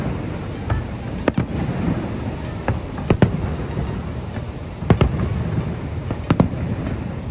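Fireworks burst over Niagara Falls in a 10 o'clock show, with scattered sharp booms and cracks echoing at a distance over a constant low roar.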